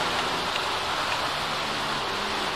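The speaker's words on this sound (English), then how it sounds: "Oh, she playing in the rain." Steady rain in The Sims video game, a continuous soft hiss of falling drops, even and unbroken throughout.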